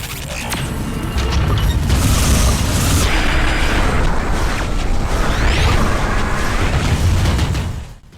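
A barrage of explosions in the VR wave shooter Space Pirate Trainer: loud, dense booms and bursts roll on continuously for several seconds over a busy background, then cut off abruptly.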